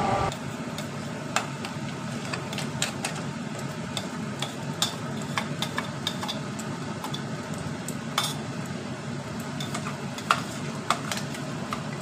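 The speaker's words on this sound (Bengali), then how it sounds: "পেস্টটা তার সাথে কড়াইতে ভালো করে মিক্সড করে নেব।" A spoon stirs amla paste and dates in a wok, scraping and clinking against the metal in irregular close taps over a low sizzle, without any talking.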